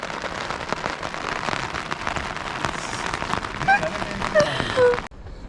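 Rain patters steadily on surfaces along the Kheerganga trek near Kasol, a dense, even hiss with scattered drops and a few faint chirps, cutting off abruptly near the end.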